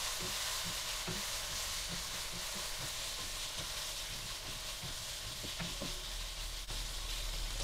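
Mushrooms and tofu sizzling steadily in a pan for a vegetarian mushroom rice dish, a constant close frying hiss with occasional light stirring clicks and scrapes.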